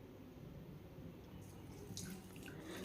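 Water from a tap splashes and trickles steadily into a bowl of whole coriander seeds, cumin and black peppercorns, a soft continuous pour with light dripping.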